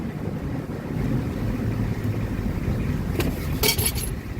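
A classic bullnose truck's engine idles at almost 24 inches of vacuum with a steady low rumble, close and continuous, with some wind noise.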